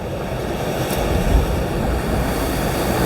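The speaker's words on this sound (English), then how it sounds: "I'm trying to time it with the waves" Ocean waves on the Welsh coast, a loud, continuous wash of surf with some wind rumbling across the microphone.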